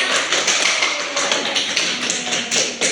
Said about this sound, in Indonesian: Tepuk tangan dulu untuk Bulan dan semuanya.